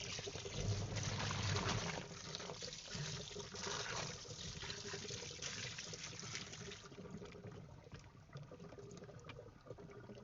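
Water gushing and trickling steadily as a washing machine drains, a continuous liquid rush close by with no talking.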